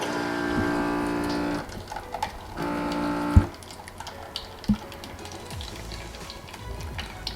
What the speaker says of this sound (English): it starts to dispense the water out